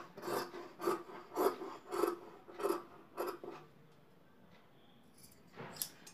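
Scissors cut through fabric for a collar neck design in a run of about six evenly spaced snips, then pause before a brief final rustle.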